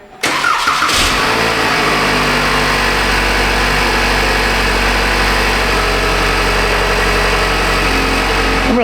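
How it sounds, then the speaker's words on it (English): A 2014 Chevy Impala engine runs steadily at idle with its secondary air injection pump switched on, a loud, constant mechanical drone and whir that starts abruptly and holds unbroken with no talking. "key on, engine running, valve open, pump on, phase 1"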